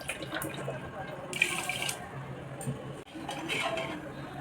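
Water poured from a bowl onto a bowlful of sugar to start a sugar syrup for a fruit jelly cake, a steady splashing and trickling in a kitchen with a few clinks of utensils, fairly close and moderately loud.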